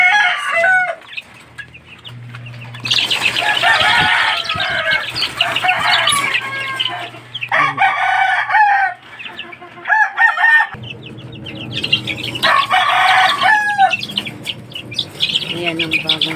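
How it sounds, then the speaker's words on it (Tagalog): Chickens and young chicks of a fighting-cock breed cluck and chirp in bursts, with a rooster crowing nearby; the bird calls are loud and close, coming and going across the whole stretch with short quieter gaps. "Tsaka ito rin ang bagong sisiw namin ngayon."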